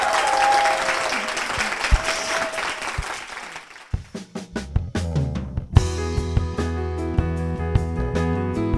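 Congregation applause as a blessing in a Korean church service, a dense burst of clapping that fades after a few seconds into sparse claps and then a keyboard and band starting up.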